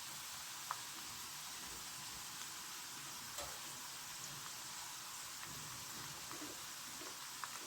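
Banana chips frying in hot oil give a steady, soft sizzle throughout, a fine continuous crackle with occasional small pops, fairly quiet and without any talking.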